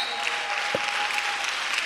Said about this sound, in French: applaudis le Seigneur Jésus.